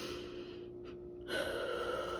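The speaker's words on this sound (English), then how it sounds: "Deep breathing." A single deep breath, close and clear: a quiet stretch, then a strong drawn-in inhale that continues steadily to the end, with no talking.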